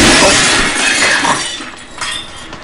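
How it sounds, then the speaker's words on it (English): Glass shatters in Happy Wheels, a loud crashing burst at the start followed by tinkling, scattering fragments that trail off over a couple of seconds, with no talking. "Break through the glass."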